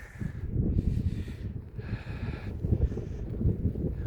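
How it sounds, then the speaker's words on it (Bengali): Strong wind at a winter base camp on the Kauri Pass trek, Uttarakhand, buffets the microphone in steady low rumbling gusts, swelling and easing throughout with no voices. "আর হাওয়া দিচ্ছে, খুব হাওয়া দিচ্ছে"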